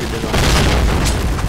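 A grenade explosion in the Point Blank video game, a short loud booming blast with rumbling noise, heard while players talk over it.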